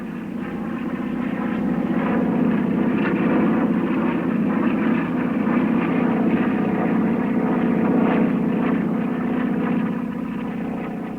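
The 535-horsepower Gee Bee Model Z racing airplane City of Springfield roars past at an air race, a loud sustained propeller-engine drone that swells and fades slightly over about eleven seconds without voices.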